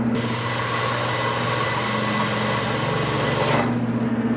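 Power drill countersinking a hole in the back of a motorcycle battery box, a close steady motor whine with a strong hum, the high pitch rising then cutting off near the end as the bit stops.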